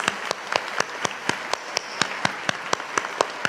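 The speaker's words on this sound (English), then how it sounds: "They needed applause too." At a university graduation ceremony, a few hands clap in a sparse, even rhythm, each sharp clap distinct and fairly close.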